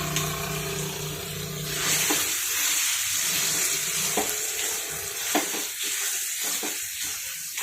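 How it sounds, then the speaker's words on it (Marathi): Homemade masala paste (vatan) sautéing on low heat in a pan for a spicy pea curry, a continuous close sizzle with repeated scraping and stirring knocks as a spoon works the paste. "आता हे वाटण चांगलं परतून घ्यायचं।"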